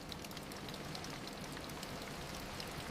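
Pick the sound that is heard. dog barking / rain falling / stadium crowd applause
rain falling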